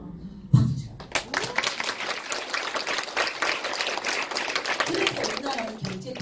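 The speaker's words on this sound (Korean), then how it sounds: "박수 쳐" Audience applause at a Nu Skin business event, a dense wash of clapping that swells after a brief loud burst and keeps going for several seconds while a voice talks over it.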